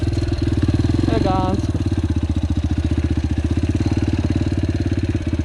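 A Yamaha TTR 125L motorcycle engine in first gear on rough off-road ground, a steady close putter with a brief rise in revs early on, and a voice speaking over it.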